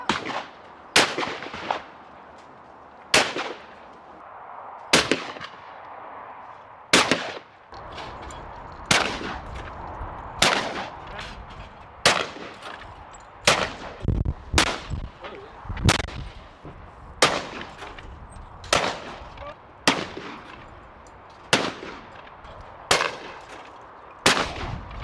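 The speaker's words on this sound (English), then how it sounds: "again there was some impressive shooting on display" Shotgun fire at a schools clay shooting competition: a steady series of about fifteen sharp blasts at fairly even intervals over twenty-five seconds, with no talking between shots.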